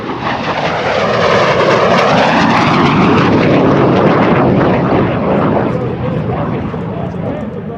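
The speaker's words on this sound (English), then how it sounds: "Demonstrating the tight turning capability of the MiG-17." A MiG-17F fighter jet roars loudly through a tight turn at an air show, a continuous broad engine rumble and whoosh that swells, holds near and close, then eases slightly as it passes.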